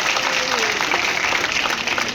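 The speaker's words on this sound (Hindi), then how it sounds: "तो एक बार जोरदार ताली हमारे मुख्यमंत्री के लिए बजा रहे हैं" A rally crowd applauding the chief minister at Rajwada Chowk, loud dense clapping from many people close by, with a voice faintly audible underneath.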